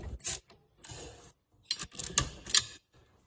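A ratchet tightens clutch bolts on a Husqvarna zero-turn mower, giving close, crisp bursts of rapid clicking separated by short pauses, with no voices.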